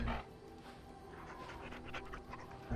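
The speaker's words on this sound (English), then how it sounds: "Let's pet the dog." A dog in Dragon Age: Origins pants steadily while being petted, a continuous breathy, rhythmic huffing heard close up with no voices over it.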